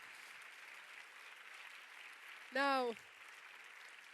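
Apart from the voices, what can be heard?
audience applause for the film Sentimental Value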